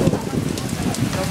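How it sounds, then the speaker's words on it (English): Heavy rain pours down during a severe thunderstorm in Salisbury, Massachusetts, a dense, loud, continuous hiss and patter close by, with voices faintly mixed into the downpour. "Run from the rain!"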